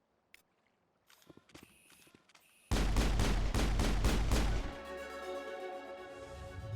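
Rapid gunfire rings out in the Mass Effect video game, a dense burst of loud, repeated shots after a few quiet clicks, then giving way to a lower, steadier sustained tone.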